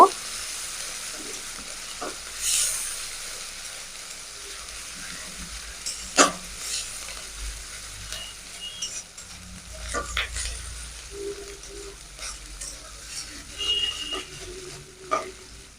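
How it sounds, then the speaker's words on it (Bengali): Onion paste frying in a pan for an egg curry, a soft, low sizzle with scattered stirring scrapes and small clicks, fairly quiet and close. "পেঁয়াজ বাটা একটু দু মিনিট ভেজে নেব"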